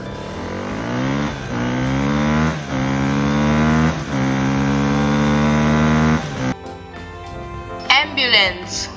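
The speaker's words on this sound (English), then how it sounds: "Motorcycle." A motorcycle engine revs hard and holds a high whine, climbing in pitch with brief drops as it shifts, loud and close, then fades as a voice speaks at the end.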